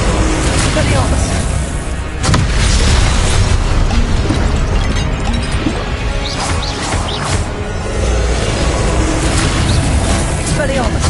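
Spells fired in a Harry Potter game on PS5, Expelliarmus mixed with other casts, give repeated loud bursts, booms and crashes across a dense battle soundscape, and a voice talks over the action.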